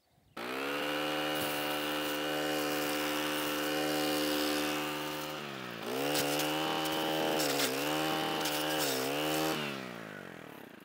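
A string trimmer cuts weeds in a paddock, its small engine whining loud and steady, then dipping and surging several times as it bites into the growth.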